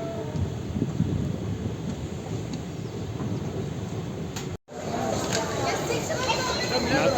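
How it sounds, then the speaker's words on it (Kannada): The Basava Express pulls into Bijapur station with a continuous rumble and rattle of rolling carriages, heard from on board, broken by a brief dropout before the noise resumes. "ನಮ್ಮ ಟ್ರೈನ್ ಬಿಜಾಪುರ ಸ್ಟೇಷನ್ಗೆ ರೀಚ್ ಆಗ್ತಿದೆ."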